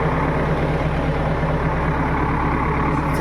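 A JCB machine's diesel engine idling at a site with many machines, a steady low rumbling drone that holds near and constant throughout without pause.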